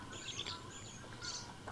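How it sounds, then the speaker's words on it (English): An adult robin and her chicks calling from trees around a small tent during late spring rain, with a few scattered high chirps over steady background hiss. "I think it's a robin and her babies."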